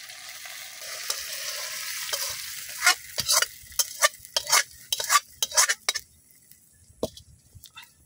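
A spoon stirs spiced beef in a pan over a clay stove, giving a run of close scraping clinks and gentle sizzling that grow busier toward the middle and then thin out.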